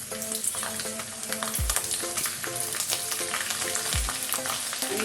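Garlic frying in a hot oil tempering for a mixed dal and vegetable khichdi, with a steady, close sizzle and crackle and a couple of spoon clinks from stirring, heard alone with no voices.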